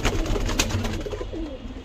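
Pigeons cooing close by in a loft, soft low repeated coos layered over a steady background hum, brief and clear without talk.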